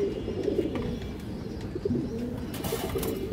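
A large female Kajla Jhak pigeon and others coo softly among a flock, low repeated throaty calls close by with a busy bird chatter behind.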